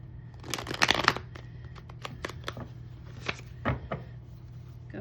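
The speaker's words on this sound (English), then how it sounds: "One more shuffle." Tarot cards being shuffled close up, a rapid riffle burst followed by scattered crisp flicks and taps, with a low steady hum underneath.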